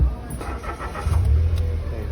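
A car engine starting during an OBD scanner diagnosis: a short cranking burst, then a low, steady idle rumble that settles in, with some voice-like sound mixed in.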